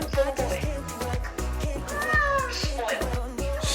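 A pampered pet cat, a spoiled little boy held in its owner's arms, meows repeatedly and close over a steady beat of background music, with a long drawn-out cry near the middle.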